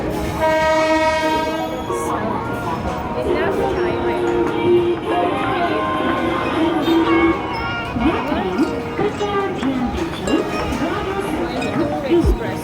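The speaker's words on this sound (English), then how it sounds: "45 minutes this train will wait here." A train waiting at a station platform on a Mumbai route gives a long horn blast at the start, then idles with clinks and rail clatter while people talk nearby throughout.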